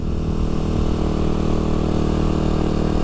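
A 2024 Kawasaki KLX300SM supermoto motorcycle running while being ridden, a loud steady engine drone close to the microphone with no talk.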